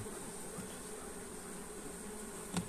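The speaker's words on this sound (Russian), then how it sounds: "Вот здесь много пчел." Honey bees drone in a hive, a faint, steady hum that holds throughout, with a soft knock near the end.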